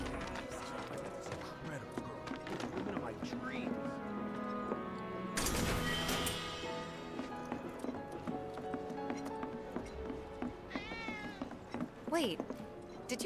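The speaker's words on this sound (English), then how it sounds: "I think one of Betty's cats might be nearby." A cat in the video game Final Fantasy VII Remake gives two or three short meows near the end, heard over running footsteps, ambient game sound and a sudden loud burst midway.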